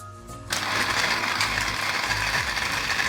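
Clikon blender grinding a honey mixture in a closed jar: the motor switches on abruptly and runs as a steady, loud whirring grind with a mechanical rattle.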